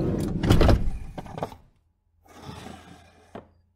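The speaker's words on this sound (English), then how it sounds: "Ever so slightly, it squeaks its way open." A drawer slides and scrapes open in a dramatized audio story, with a loud rough rumble, a pause, then a second quieter dragging creak ending in a knock.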